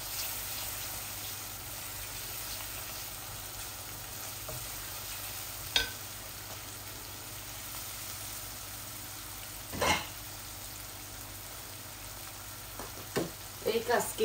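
Ginger, garlic, chili, curry powder, cumin and coriander fry in a curry pan with a steady low sizzle, occasional stirring knocks and scrapes, and a few clinks near the end.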